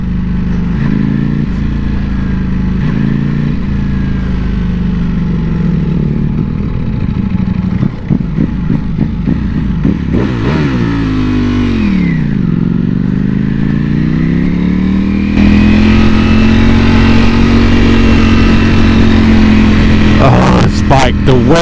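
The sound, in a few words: Ducati Panigale V4S motorcycle engine revving in race mode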